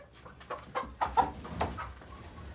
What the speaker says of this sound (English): That's my freak out chicken.